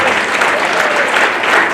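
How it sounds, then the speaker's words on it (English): Dense, loud applause from an audience at an international night event honoring staff and volunteers, a continuous wash of many hands clapping with no pauses. "So give a round of applause for"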